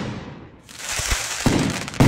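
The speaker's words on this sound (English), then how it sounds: "And then we've got fireworks." Fireworks in an AI-generated scene crackle and pop in a few sharp bursts over a hissing shower, moderately loud with no voices.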